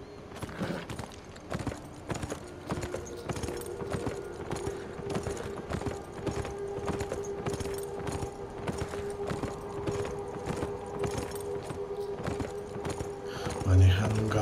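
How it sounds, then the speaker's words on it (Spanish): Horse hooves clip-clopping steadily at a walking pace in the video game Beyond Two Souls, a rhythmic series of hoof hits over a sustained tonal background, with a brief whinny-like sound near the end. "Manejando un caballito."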